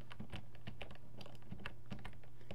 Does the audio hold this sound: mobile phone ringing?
no